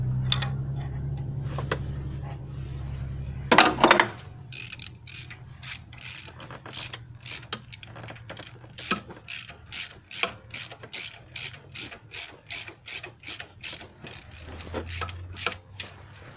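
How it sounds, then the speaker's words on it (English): Ratchet tightening the camshaft caps on a Suzuki Grand Vitara 2.5/2.7L engine, a close run of rapid, evenly spaced clicking strokes in repeated bursts, preceded by a brief clunk. "you can go ahead and start tightening your caps down"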